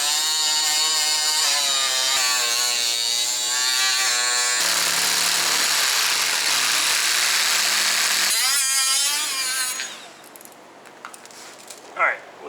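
A power tool whines loudly as it cuts through the bumper of an abandoned FC Mazda RX7 to clear room for the exhaust, a sustained high buzzing grind that shifts pitch under load, stops, then gives way to faint clinks.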